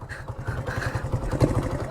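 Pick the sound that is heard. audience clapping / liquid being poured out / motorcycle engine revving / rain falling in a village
motorcycle engine revving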